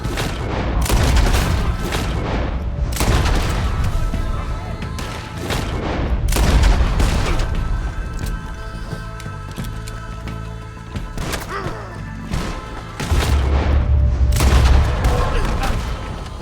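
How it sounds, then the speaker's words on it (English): Gunfire in the video game Red Dead Redemption 2, a fierce shootout of booming rifle and pistol shots with overlapping reports and heavy thuds, loud and continuous throughout with no speech. "I'll riddle you with bullets!"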